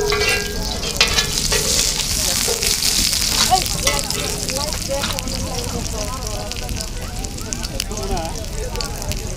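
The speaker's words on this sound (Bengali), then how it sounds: "একদম অল্প তেলে ভাজা করতে হবে না?" Chicken chap fries in a pan with very little oil at a street food stall, a steady close sizzle with scraping and stirring throughout, while people talk over it.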